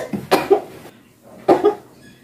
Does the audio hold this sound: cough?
yes